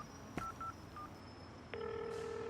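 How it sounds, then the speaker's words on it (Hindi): A mobile phone on a film set gives a few short electronic beeps, then a steady synthetic ringtone sounds clearly over quiet room noise, with no talking. "ऐसे टाइम पर ही हमेशा फोन आता है"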